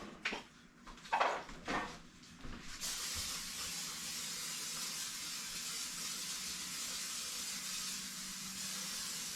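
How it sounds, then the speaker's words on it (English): A few knocks and handling clatters, then a continuous hiss of olive oil spray onto a baking pan that runs steadily for several seconds without a break. "Go ahead and spray it with some olive oil."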